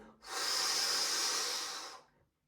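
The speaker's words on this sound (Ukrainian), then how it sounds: "виконуємо дихання бодіфлекс. Глибокий, потужний видих." A deep, forceful exhale during a bodyflex breathing exercise, one close, breathy rush of air lasting about two seconds before fading out.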